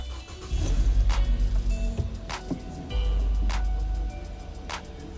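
A car engine cranks and catches during an ignition system check, a loud rumbling start that settles, then revs up again briefly before easing off, with clicks and mechanical noise around it.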